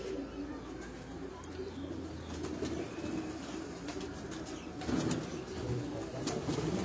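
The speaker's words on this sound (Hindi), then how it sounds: "तो ये उनके परवाजी कबूतर हैं" Parwazi flying-breed pigeons coo softly and steadily at a breeder's loft in Gujrat, a low continuous murmur with faint rustling and occasional wing flaps, close by and without clear talk.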